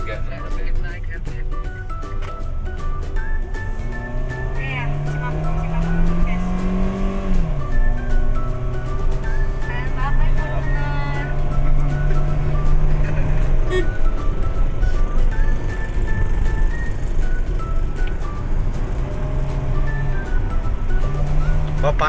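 A Nissan Grand Livina driven fast in sport overdrive mode, the engine droning steadily from inside the cabin with rising and falling pitch as it speeds along, while people talk over it.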